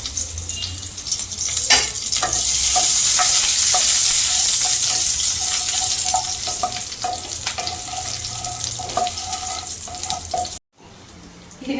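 Ginger, garlic and green chilli fry in a pan, a loud steady sizzle with repeated stirring taps and scrapes, briefly cutting out near the end.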